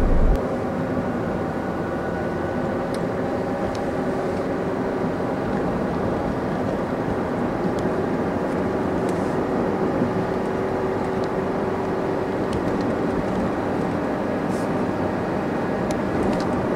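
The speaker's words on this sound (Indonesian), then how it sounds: "Ada pesawat di depan lagi jalan." Airplane taxiing at Soekarno-Hatta airport, heard from a passing vehicle as a steady, continuous engine rumble and hum that holds evenly throughout, with no talk.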